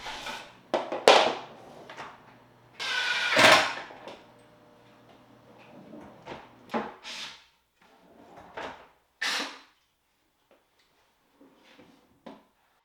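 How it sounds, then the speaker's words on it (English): Wooden drawers sliding on metal drawer slides while being fitted into a DIY closet, with a series of sharp close bumps and rolling slides in separate bursts, loud early and fainter toward the end. "Then I was able to use that as a spacer and a guide to install each drawer and slide."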